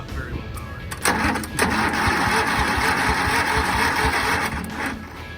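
An old garden tractor engine cranks on a dying battery when the solenoid is jumped, producing a sluggish, labored churning with uneven pulses that hold for a few seconds before trailing off.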